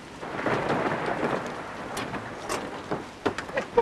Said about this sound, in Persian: زیر این بارون نصف شبی